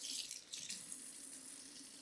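A spatula used for cooking eggs is rinsed under a running kitchen tap, producing a faint, continuous hiss of flowing water with no voices.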